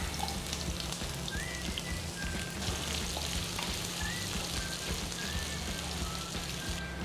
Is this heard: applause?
no